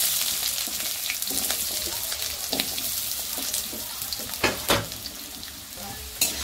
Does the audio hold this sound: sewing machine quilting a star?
no